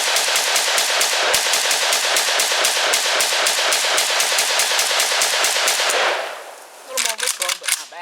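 An SLR 106 CR rifle fires a rapid, evenly spaced string of loud sharp shots at a shooting range. The burst stops abruptly and is followed by a few scattered closer knocks.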